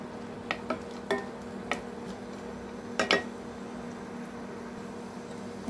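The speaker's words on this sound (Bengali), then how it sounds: "আমি এটা নেড়ে নেবো" Whole spices (cardamom, peppercorns, mace, star anise, cinnamon) frying in oil for a Kerala-style mutton curry while a spoon stirs them, with a soft steady sizzle broken by several sharp taps and scrapes against the pan.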